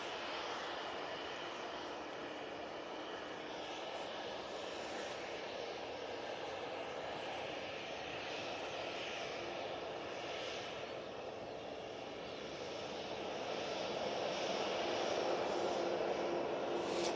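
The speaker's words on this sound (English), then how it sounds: "777-300ER coming in from Abu Dhabi with a flight time of just under 7 hours and 10 minutes" An Etihad Boeing 777-300ER arriving at Manchester Airport from Abu Dhabi, a faint distant steady jet roar with hissing air that swells slightly toward the end, no voices.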